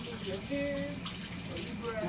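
Water pours steadily into a pot of Colombian sancocho soup, a soft continuous splashing and gurgling at low level throughout.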